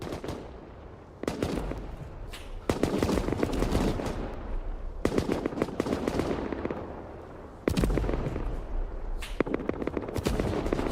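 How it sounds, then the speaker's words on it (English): Cannons mounted on temporary boats fire over and over in the video game Albion, sharp blasts in repeated clusters with short quieter gaps between them, loud and dense throughout. "Just set up a whole bunch of temporary boats with cannons on them to keep firing and get that Nexus down."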